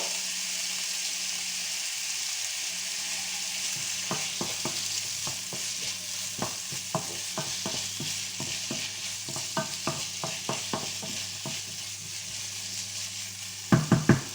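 Bacon lardons and onions fry in a pan for tartiflette, a constant close sizzle under a low steady hum, broken by repeated scraping and tapping of a spoon stirring, with a sharp clatter near the end.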